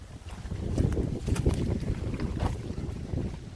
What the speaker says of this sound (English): Bit of wind picking up.